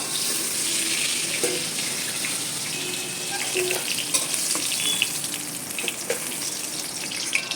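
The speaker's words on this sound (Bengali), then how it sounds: "আগে বেগুনটাকে ভেজে নেব" Eggplant frying in oil gives a loud, constant hiss and sizzle up close, with occasional spatters and a utensil moving in the pan.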